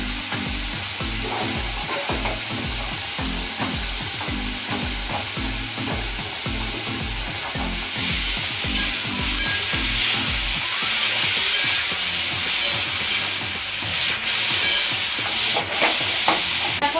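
Cauliflower and potatoes frying in mustard oil, with a steady close sizzle and rhythmic stirring scrapes throughout and a brighter hissing burst in the second half.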